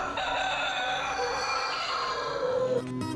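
A rooster crows once in a long, drawn-out call, loud and close, used as a sound effect in a Brazilian rural radio advertisement, with no talking over it.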